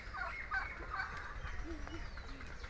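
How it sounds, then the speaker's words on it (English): Turkeys gobble and call beneath a large banyan tree, the fowl sounds fairly faint and scattered among other bird noises and a low outdoor rumble. "this is very sweet turkey couple, a pair"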